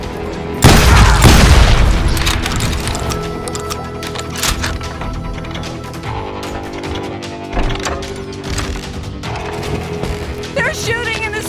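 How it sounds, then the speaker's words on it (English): Gunfire erupts in a street shootout in Call of Juarez: Gunslinger, opening with a loud heavy blast followed by scattered shots and mechanical clicks beneath a dense game soundtrack. "They're shooting in the street!"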